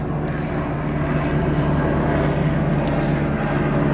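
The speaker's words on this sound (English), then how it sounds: "now there's a helicopter flying overhead" A helicopter flies overhead, producing a steady broadband engine roar that stays loud and constant throughout, with no speech over it.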